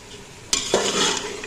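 Peas tip into a pan of frying beans and mixed vegetables. A sudden rattle and a splash set off a brief burst of sizzling and stirring close by.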